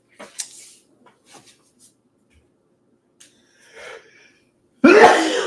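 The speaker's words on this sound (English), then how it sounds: "Sneezing." A single sharp, loud burst of sneezing near the end, preceded by a few faint, scattered noises and near silence.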